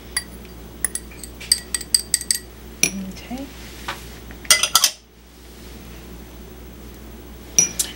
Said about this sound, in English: Again, I'm going to use my nice little whisk.